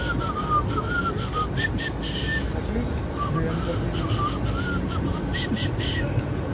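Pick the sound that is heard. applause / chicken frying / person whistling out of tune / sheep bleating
person whistling out of tune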